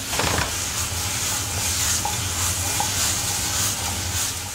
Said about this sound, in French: Pendant que vous faites revenir vos pommes